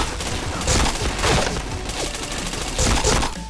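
Rapid bursts of gunfire in the online shooter Point Blank, loud overlapping shots with clattering impacts in several clustered volleys and no talk.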